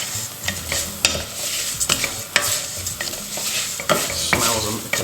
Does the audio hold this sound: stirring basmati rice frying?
yes